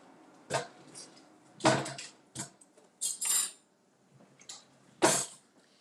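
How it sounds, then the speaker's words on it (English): A knife and fork cut into a French omelet on a plate, making a handful of sharp, close metallic clinks and short scrapes spaced irregularly, with quiet gaps between and no speech. "I'm going to cut into it so you guys can see."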